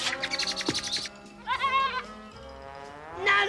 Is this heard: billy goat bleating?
yes